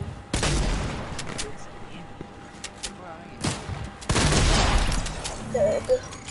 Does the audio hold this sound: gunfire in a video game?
yes